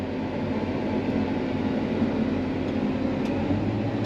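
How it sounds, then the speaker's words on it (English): Freight train made up of tanker cars rolling past, a steady low rumble and rail noise that holds evenly for the whole stretch, moderately loud with no voices. "It looks like this one's got all tanker cars on it."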